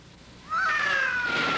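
A cat gives one clear, drawn-out meow that rises and holds, close and fairly loud against a quiet background with no talking.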